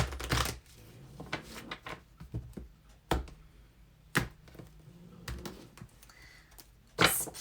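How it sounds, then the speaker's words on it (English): A tarot deck is shuffled by hand, giving bursts of riffling and soft slapping card clicks in irregular clusters, close and fairly loud against a quiet room. "Shuffling away."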